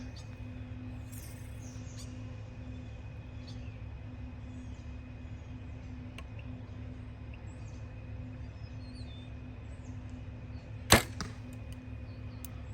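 A single arrow from a new bow striking a target outdoors on a foggy, humid day, one sharp close impact near the end, over a steady low background hum with faint bird chirps.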